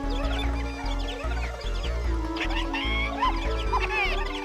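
Chirping, clucking chicken calls from a video game, a string of bright bird-like squawks over a steady thumping game music loop, fairly loud throughout.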